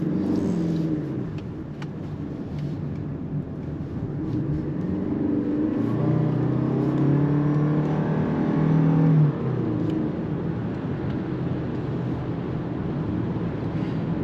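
Toyota Crown Limited hybrid sedan under hard acceleration, a steady cabin drone of engine and road noise that swells and rises in pitch, then levels off.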